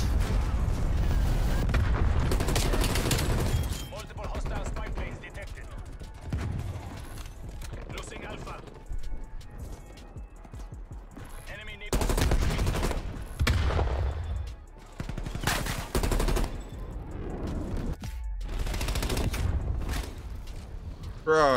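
XM4 rifle gunfire in Call of Duty Black Ops Cold War rattles in repeated loud bursts separated by quieter gaps, with the player talking in between.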